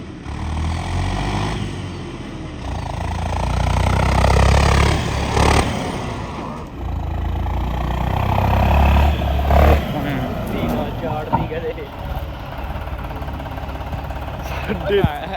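A 4x4 tractor with a leaking gear seal idles with a low, steady rumble while people talk loudly over it close by.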